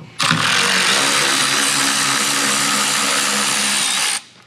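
A power tool, likely an impact driver with a 10mm socket, runs as one steady loud burst of about four seconds while removing a bolt from the lower control arm cover at the rear of a Tesla Model Y, then cuts off abruptly.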